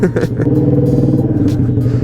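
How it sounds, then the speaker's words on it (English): A 125cc motorcycle engine cranks and fires up close by, settling into a loud, choppy idle with rapid rhythmic pulsing and a few clattery bursts. "Start on up. It's a mean 125cc engine."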